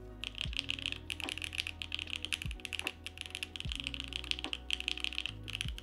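Keys on the numpad of a W1-AT mechanical keyboard with stabilizers are typed in quick bursts, crisp clacky presses close up with brief pauses between runs.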